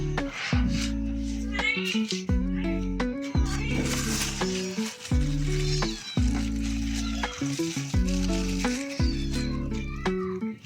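A house cat meows several times in a row, close to the microphone, with a sizzling, frying-like hiss in the background and a strong repeating low tone underneath.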